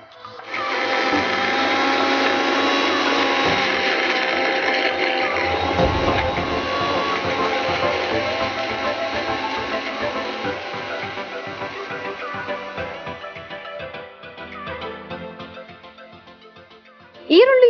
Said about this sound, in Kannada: ಮೊದಲು ನಾವು ಕತ್ತರಿಸಿದಂತಹ ಈರುಳ್ಳಿಯನ್ನ ಮಿಕ್ಸಿ ಜಾರ್ಗೆ ಹಾಕೊಳ್ಳೋಣ